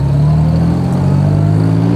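A 1958 Jaguar XK150 3.4 OTS, fully restored with matching numbers, runs smoothly close by, its steady low engine drone and tonal hum holding without pause.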